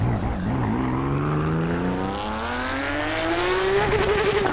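Porsche race car engine in the Assetto Corsa Evo sim racing game, a loud continuous engine note rising steadily in pitch as it accelerates through the gear, with no talk over it.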